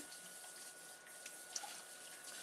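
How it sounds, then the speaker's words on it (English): A lid is rinsed under a running kitchen tap, making a quiet, steady hiss of flowing water with a few faint splashes and drips, no voices. "let me rinse off the lid"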